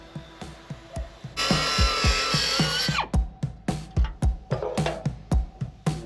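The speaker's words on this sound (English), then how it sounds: "I'm going to strip some of these brackets off that I'm no longer going to need on the shock tower" Hand and power tools work on a car's shock tower in an engine bay, stripping off brackets: a rapid series of sharp metallic knocks, then a loud sustained grinding burst lasting a couple of seconds, then more close, irregular knocking blows.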